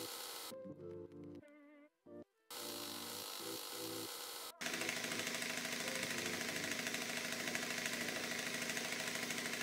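A 3D-printed air compressor runs loud and steady as it pumps up a volleyball, a buzzing mechanical drone with brief stops early on before settling into continuous close-up pumping.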